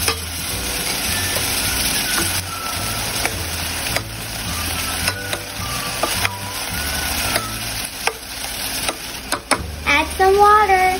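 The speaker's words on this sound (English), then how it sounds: "Mix it again." Utensils scrape and clink against a pot of vegetable corn soup in repeated stirring strokes under a constant background hum, with a brief voice near the end.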